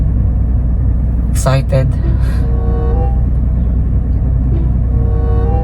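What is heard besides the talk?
Toyota 4Runner engine idling while warming up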